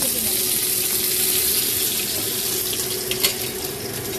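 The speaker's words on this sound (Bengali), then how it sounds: "দিয়ে পটলটা ভালো করে লাল লাল করে ভেজে নেব।" Pointed gourd pieces fry in white oil in a kadai, giving a loud, steady broadband sizzle that runs throughout with a few brief crackles and no talking.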